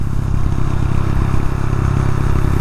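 Motorcycle engine running loud and close, a dense low rumble with rough mechanical clatter, fairly steady over a brief stretch without speech.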